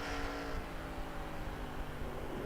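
Nextel Cup race car engines in the NR2003 racing game, a steady droning engine tone with a faint higher whine, continuous and moderately quiet throughout.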